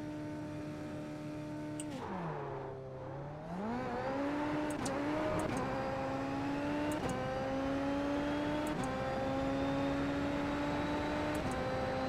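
Super Formula SF23 race car in a racing video game doing a launch control start with dual clutch in first gear: a steady engine drone dips, then revs up and climbs through quick gear changes, clean and without talk.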